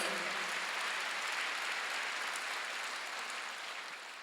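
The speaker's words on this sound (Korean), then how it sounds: "믿으시면 박수로 예수를 자랑하는 게 지혜롭다는 걸" A large church congregation applauds steadily in a reverberant hall during a Sunday service, the clapping dense and sustained before gradually fading.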